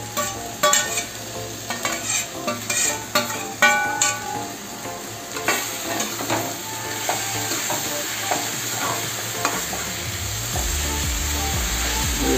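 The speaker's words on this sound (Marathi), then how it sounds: "पूर्णपणे एकजीव होईपर्यंत ढवळून घेऊया आपण भाजीला." A spoon scrapes repeatedly through wild tera leaf vegetable curry with masala in a pan, close and rhythmic over a steady sizzle of frying, the stirring slowing and giving way to continuous sizzling toward the end.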